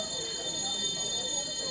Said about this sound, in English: Don't worry, that's not our bell.